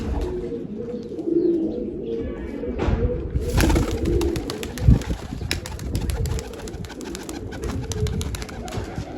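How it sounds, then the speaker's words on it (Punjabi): Domestic flying pigeons coo in low murmuring bursts with a clatter of wings partway through as they are released, set against steady outdoor background noise. "ਇਹ ਆਪਣਾ ਬਾਈ ਦਾ ਜਹਾਜ਼ ਕਬੂਤਰ"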